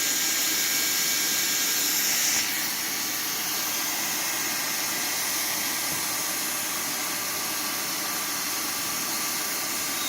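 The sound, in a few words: hot air walking welder welding roofing membrane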